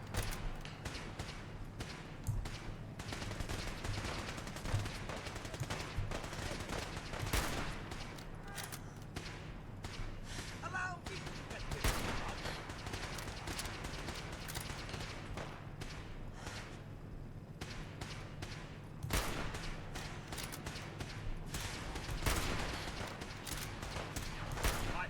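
Gunfire bursts from modded Fallout 4, with repeated sharp shots and thuds scattered across a dense, busy game soundscape, steady background hum throughout.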